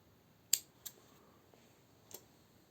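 Scissors carefully trimming a frayed fabric edge, a few faint, crisp snips spaced apart in a quiet room.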